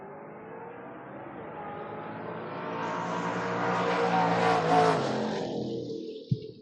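A drag race car, a Camaro in a door-car class, launches and roars away, the engine note rising and building for several seconds before fading, ending with a sharp pop; no talking.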